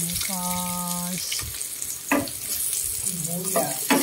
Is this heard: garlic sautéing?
yes